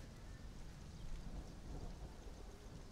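Steady rain falls in the Conan Exiles video game, a soft, constant hiss with low rumbling underneath, heard on its own.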